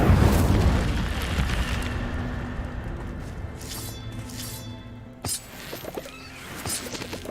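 A fire spell is cast in Hogwarts Legacy, a whooshing burst of flame that fades into a lingering crackle, followed by a few sharper magical pops and chimes, with no voices.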